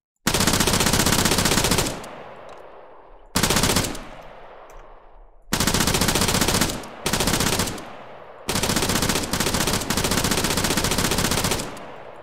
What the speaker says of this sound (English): This gun is very, very fast firing